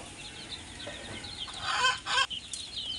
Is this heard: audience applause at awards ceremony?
no